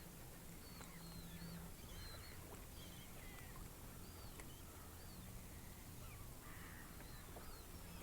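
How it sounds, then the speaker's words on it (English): A seagull calls repeatedly over open sea in Carmarthen Bay near a lone fishing kayak, its harsh cries fairly faint above a steady wash of wind and water. "Get off it, stupid seagull."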